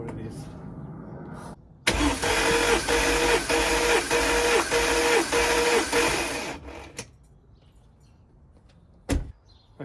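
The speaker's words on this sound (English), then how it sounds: "Let's crank this over, see what his last cylinder is." Mercedes-AMG M113 V8 cranking over on the starter during a compression test, a steady rhythmic churn of repeated compression pulses lasting about five seconds, loud and close, then stopping, with brief clicks afterward.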